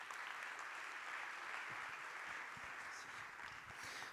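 Applause from an audience at the opening speeches of a conference event, a steady wash of clapping heard faintly and at a distance, evenly sustained with no voices on top.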